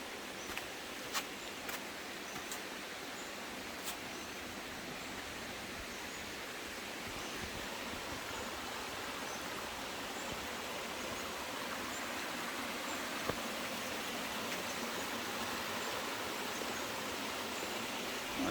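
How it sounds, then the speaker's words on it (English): A small waterfall on the Tadfa trail in Chaiyaphum gives a faint, steady, even hiss of falling water from some distance, with a few light clicks near the start and no voices. "A little bit of a waterfall there, I guess."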